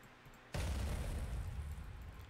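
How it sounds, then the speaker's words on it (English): Explosion sound effect previewed while editing a Geometry Dash level: after a quiet half second a sudden loud boom bursts in, then a long rumbling, crackling decay that fades slowly, with no talk. "I'm trying to find a really good explosion sound effect."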